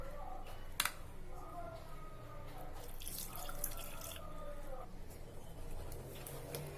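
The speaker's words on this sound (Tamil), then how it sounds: "இப்ப நம்ம கூட 1/2 கப் தண்ணி சேர்த்துக்கலாம்." Water pours in a short, faint stream into wheat flour appam batter in a bowl, followed by soft drips and gentle splashing while a person talks.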